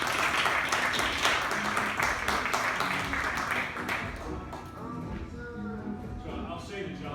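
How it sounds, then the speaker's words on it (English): Audience applause for a guest at a conversation event, dense clapping that thins out toward the end, with a voice starting to speak under it. "So everyone give a warm round of applause"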